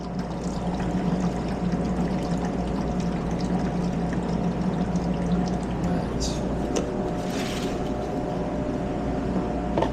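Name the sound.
pouring horchata liquid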